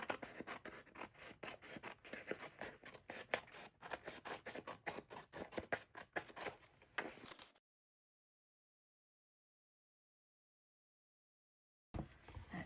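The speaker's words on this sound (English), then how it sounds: "So I just went right along the side, trimming off all the edges." Paper edges being trimmed with scissors for a scrapbook page, a quick run of close, crisp rhythmic snips lasting several seconds, then silence, then a brief resumption of cutting.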